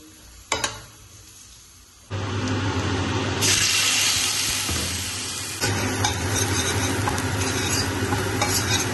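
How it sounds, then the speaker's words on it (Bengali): Potato and cauliflower frying in a pan: a couple of sharp clinks, then a loud, dense sizzle bursts in and continues with stirring scrapes and shifting intensity, up close with no talking. "এই আলু আর কপিটা একটু ভাজবো"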